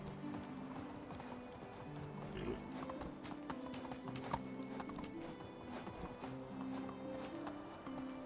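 Horse galloping in the Medieval Dynasty game, a steady run of fairly faint hoofbeats over a continuous background hum, with an occasional snort.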